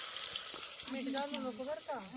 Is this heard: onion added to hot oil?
yes